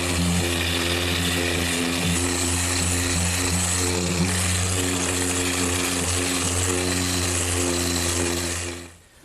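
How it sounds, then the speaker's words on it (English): A random orbit sander works over a wood panel for a Shaker woodbox, with a loud, steady motor drone and buzzing hum carrying on without a break until it winds down at the very end. "I'm just going to use my random orbit sander"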